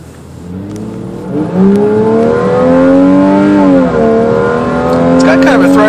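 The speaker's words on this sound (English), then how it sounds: "I'm going to make a U-turn here and demonstrate heavy acceleration of the vehicle." A Lexus IS300 in automatic mode accelerates hard out of a U-turn, its engine note climbing steadily through the revs with a brief dip at a gear change, loud and close from inside the car.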